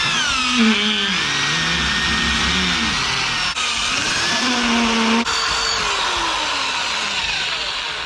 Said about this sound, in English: I found my collection of grinding stones, and this one is the one that does the job.